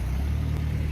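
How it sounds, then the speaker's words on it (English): A petrol pre-facelift Citroen Xantia engine idles at close range with a steady low rumble and a light tappety ticking, heard outdoors at a car show. "Bit tappety, that engine."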